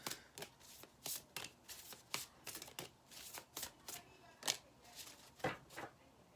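Oracle cards shuffled by hand in short, soft riffling bursts, repeated at an irregular pace and fairly quiet, with no talking.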